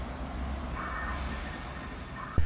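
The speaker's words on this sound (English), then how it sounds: "Arriving next into the station will be 378210" A London Overground train, unit 378210, pulls into Imperial Wharf station with a loud, sustained high wheel squeal over a low rumble, ending in a sharp thump.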